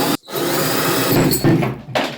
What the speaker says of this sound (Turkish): kavanozumuzu delelim